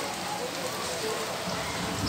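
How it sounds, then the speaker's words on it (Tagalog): Steady rainfall outside a house during hot weather, a continuous hiss of drops hitting surfaces at moderate level with no talking over it. "Nakita ko na talaga ang ulan."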